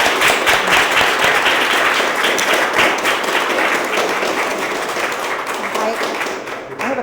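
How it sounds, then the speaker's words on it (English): Applause fills a room at a community event for a House of Representatives 89th District gathering, dense steady clapping from an audience lasting throughout and tapering slightly at the end. "So give yourself a applause."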